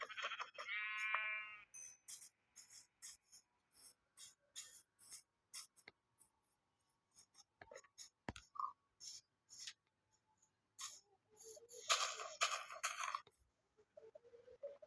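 A sheep bleats in the video game Minecraft, a short clear call near the start. Many soft clicks and crunching game sounds follow, with a louder burst of noise later.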